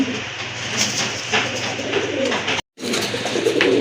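A very large male pigeon at a market sale cooing loudly and close, with a continuous throaty rolling coo broken by a brief cut, set against a busy din of other birds.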